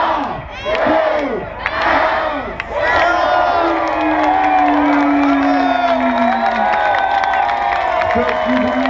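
Large roadside crowd at the Tour de France stage start in Besançon cheers, whoops and shouts loudly and continuously, with a rising whistle-like cry and horns or voices swelling over the roar at close range.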